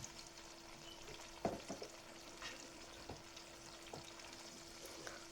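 Marinated chicken lands in a pan of frying tomatoes and oil, a soft close sizzle with a few stirring scrapes and clunks, quiet overall and without talk.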